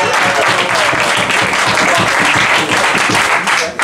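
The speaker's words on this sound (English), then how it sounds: "Clap it up for your last fight of the" A comedy show crowd claps loudly and continuously, a dense rapid patter of many hands, close and steady, with a host talking faintly underneath.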